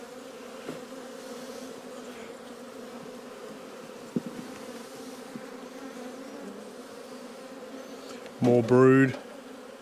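Honey bees hum steadily around an open hive during a spring inspection, a low continuous drone near the mic, with a brief louder burst of buzzing close by near the end and a few quiet spoken words.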